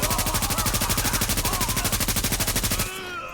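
Rapid automatic gunfire rattles in a steady, fast burst for nearly three seconds during a firefight in The Division's New York Dark Zone, loud and close. It stops abruptly into quieter ambience.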